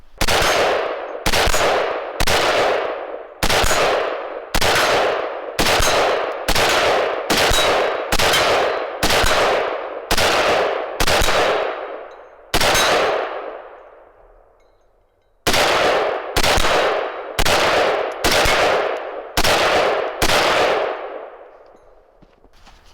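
A rifle fires about twenty rounds downrange, each shot a loud, ringing crack. They come as a steady string of roughly one per second, with a brief pause partway through and a long decaying echo at the end.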